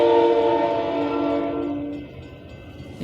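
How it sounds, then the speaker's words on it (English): A metro train sounds a loud, sustained horn, then rumbles past and fades, leaving a low clatter as the tone drops away. "That was the metro."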